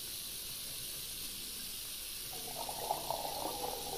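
Water runs into a pot in Cooking Simulator, a video game, coming in during the last second and a half as a soft, steady faucet-like hiss and trickle under a constant background hum.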